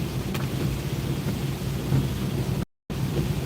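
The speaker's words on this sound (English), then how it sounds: "Monsoons have returned here to the Hudson Valley" Monsoon-style rain in the Hudson Valley pours steadily with a low thunder rumble underneath, a continuous broad wash briefly interrupted by a gap of silence.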